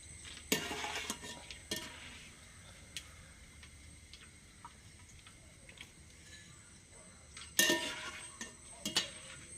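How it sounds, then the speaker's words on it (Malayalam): Roasted gram is tipped from a pan into a vessel, heard as a few sharp metallic clinks and rattling taps spaced out over quiet stretches. "അത് ഞാൻ പാത്രത്തിലോട്ട് മാറ്റുകയാണ്."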